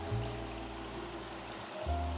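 Water runs steadily in the central water feature of a luxury hotel lobby in Osaka, a soft continuous trickle and rush at low level with no voices.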